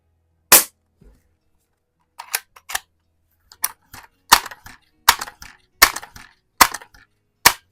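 An Umarex NXG APX multi-shot multi-pump air rifle fires at targets in a garage: one sharp report, then a quiet pause, then a steady string of crisp pellet shots, each followed by a faint target tick.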